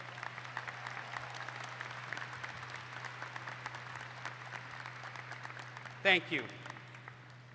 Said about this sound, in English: Please rise and give a round of applause to your faculty and staff from Murray State.